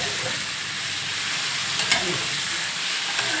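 Soft tofu fries in a pan ahead of a stir-fry with mixed vegetables, giving a steady, close, dense sizzle that hisses continuously throughout, broken only by a couple of small pops or spatula clicks, with no voices.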